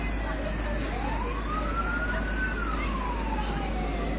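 A fire engine siren wails in a slow rising and falling sweep at a fire in Empat Lawang, heard at a distance over steady broadband noise and outdoor commotion.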